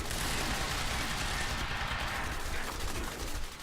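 Dense, continuous gunfire in the Quantum Break video game: a loud, unbroken barrage of rapid shots and crackling blasts that holds for several seconds and eases slightly at the end.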